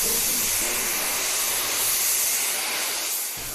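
Loud, steady hiss of steam venting from the steam locomotive Sir Nigel Gresley, broad and continuous throughout, with a low rumble underneath that briefly drops out near the end.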